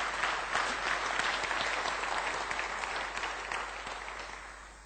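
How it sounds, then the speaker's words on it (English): An audience claps steadily after a conference talk, a dense wash of applause that holds evenly and then slowly thins out near the end. "Who clapped first?"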